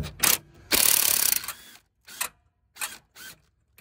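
A ratchet works a fastener loose on a 2003-2010 Ford 6.0 engine, giving several short bursts of clicking close to the microphone, one longer run in the middle, with quiet gaps between.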